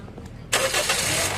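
A repaired Toyota Altis engine cranks and catches halfway through, settling into a loud, steady close-up idle with no talking.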